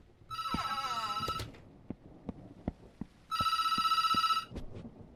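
Twice a telephone rings in a horror video game, each time as a long, loud electronic trill, with soft footsteps and knocks sounding in the gap between the rings.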